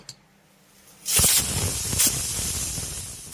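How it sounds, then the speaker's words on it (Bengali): A pressure cooker cooking dal vents steam after a quiet start, bursting into a loud, sustained hissing whistle that holds steady for a couple of seconds, with no talking. "প্রেশার কুকারে ঢাকাটা আটকে একটা চিটি মেরে নেব"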